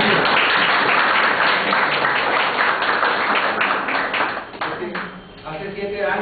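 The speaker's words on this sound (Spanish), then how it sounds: "pues te deseo un aplauso" An audience at a peasant leadership training workshop in El Salvador gives sustained, fairly loud applause that thins out toward the end, where a voice begins speaking.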